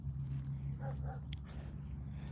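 Dog called Fanny Red, heard giving two short, faint yips close together over a steady low hum, followed by a brief sharp noise.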